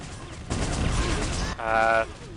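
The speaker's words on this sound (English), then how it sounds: "So seeing some chain gun here." Rapid chaingun fire in a Quake 2 capture-the-flag match rattles in dense bursts, first a sustained stretch of shots and then a louder, tonal whirring burst near the end.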